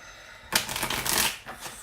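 Tarot cards are shuffled once in a quick, crisp riffle lasting about a second, close up, after a brief quiet moment.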